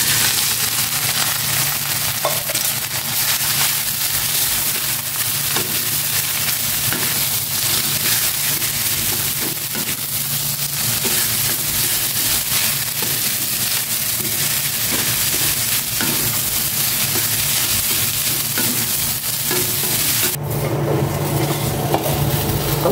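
Rice frying in oil in a pan for sinangag, Filipino garlic fried rice with egg, gives a steady, close, dense sizzle with faint stirring scrapes, unbroken for the whole stretch and free of talk.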